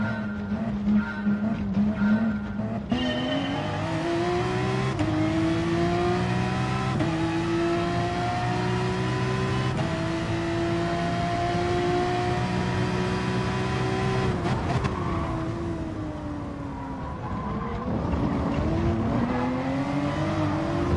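Race car in a racing video game, engine holding a loud sustained high drone with gear-shift steps and rising and falling pitch, tires skidding and squealing under hard, aggressive driving, continuous throughout without speech.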